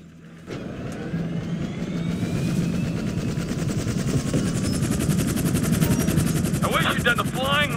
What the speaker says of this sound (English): I guess this is our chopper